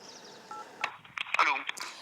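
Telephone keypad dialing tones, a few short touch-tone beeps in quick succession, mixed with brief voices and room noise as someone phones a village mayor.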